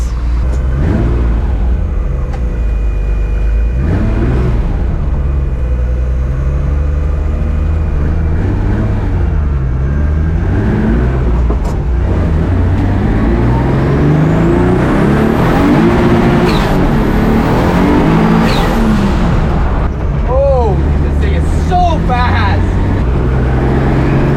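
Car with a blown head gasket making about 25 PSI boost, accelerating hard on the street, engine roaring loud and continuous as revs climb and drop through gear changes while the tires spin, close up.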